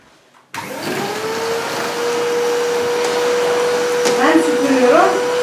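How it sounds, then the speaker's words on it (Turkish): A vacuum cleaner switches on after a brief quiet moment to clean a sofa, then holds a loud, steady drone with a sustained tonal whine. A voice briefly speaks over it near the end. "Evet, koltuğu bir süpürelim."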